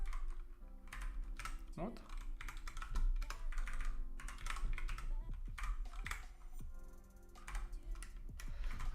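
Code being typed on a computer keyboard, rapid irregular bursts of close key clicks with pauses, while someone speaks briefly over the tapping.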